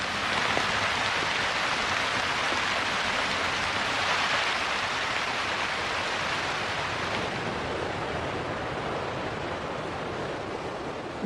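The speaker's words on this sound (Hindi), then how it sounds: "टेक्सास में जब भी बारिश होती है, मूसलाधार ही होती है।" Dense, steady roar of heavy rain pouring down in Texas, a constant wash of noise with no pauses or voices.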